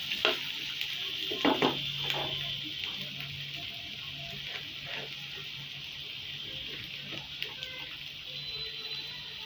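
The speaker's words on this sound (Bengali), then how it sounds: "একটু ভেজে নেব যাতে কাঁচা গন্ধটা চলে যায়।" Ginger and garlic paste fries in a pan, a steady soft sizzle with a few spatula scrapes and stirring clicks, close and fairly quiet.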